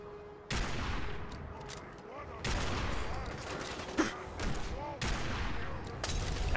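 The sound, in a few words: laser plasma rifle fire in the Fallout 4 video game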